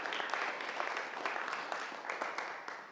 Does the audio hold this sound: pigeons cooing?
no